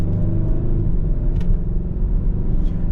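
A 2023 Kia K5 GT with the GT1 package, rated 290 horsepower and 311 lb-ft of torque, accelerating, heard as a steady, close engine and road rumble from inside the cabin, with no talking.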